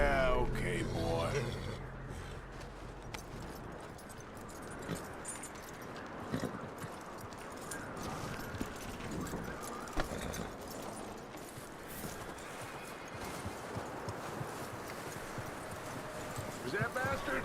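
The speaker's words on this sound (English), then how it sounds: "That looks like a decent horse." Horse hooves clip-clop steadily on the ground in the Red Dead Redemption video game, a continuous rhythmic clatter mixed under game sounds and talk.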